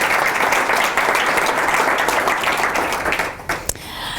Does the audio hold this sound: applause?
yes